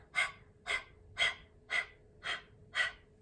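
Six quick, evenly spaced breaths through an open mouth, a rhythmic panting like a dog, close and fairly quiet.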